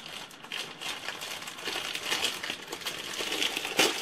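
Crinkly plastic rustles and rattles as a Craftelier pencil pouch, pink, is handled and opened up close, steady crackling throughout with a sharper snap near the end.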